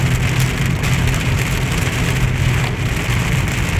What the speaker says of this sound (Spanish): Ya es un aguacero, ya no es una simple llovizna.